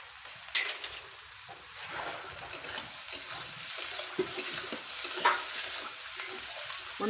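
Onions sizzle and fry in a pan for rohu fish curry, with a steady hiss, sharp stirring scrapes and occasional clatters close by.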